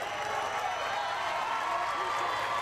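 A stadium crowd at a softball gold-medal championship game between Japan and USA makes a steady, loud roar of cheering and clapping with no break, spread wide and filling the space.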